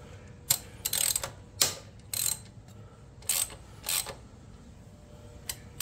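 Ratchet working on an exhaust bolt during installation of a link pipe and mid pipe on a 2022 Yamaha MT-10 motorcycle; several separate bursts of close clicking and creaking with pauses between, heard alone.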